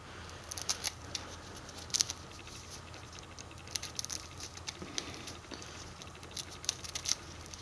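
Scissors snipping through food scraps for a worm bin, repeated crisp close cuts in an irregular rhythm against a quiet background.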